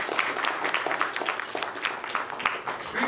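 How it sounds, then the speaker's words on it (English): Scattered audience applause fills a press conference for a mixed martial arts fight night, a steady patter of clapping at moderate level with some crowd murmur mixed in. "So big round of applause for him, ladies and gentlemen."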